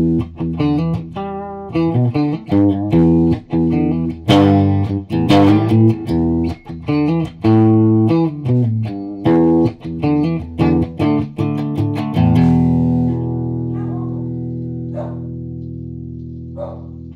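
A Peavey T-15 electric guitar plays clean tones in a lively sequence of plucked notes and chords, loud and close, ending on a long ringing chord that fades out.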